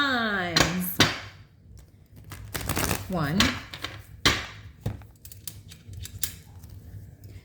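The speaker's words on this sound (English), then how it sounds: "We're going to shuffle these cards 5 times." Tarot cards being shuffled and snapped together in several short, crisp papery bursts at irregular intervals, close by, while a voice briefly counts between them.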